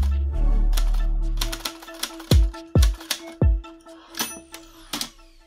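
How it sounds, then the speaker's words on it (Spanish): Mechanical typewriter keys strike in a sharp, irregular series of clacks after a low rumbling start, each hit crisp and close, with a few quicker taps and a bell-like ring near the end. "una máquina de escribir para mostrar los resultados"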